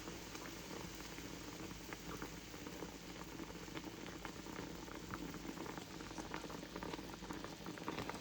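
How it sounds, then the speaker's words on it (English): A pot of Vietnamese caramelized fish boils steadily on the stove, a continuous soft bubbling and popping that stays even throughout, quiet and close with no voices. "now when it boils, I normally turn down the heat and let it shimmer."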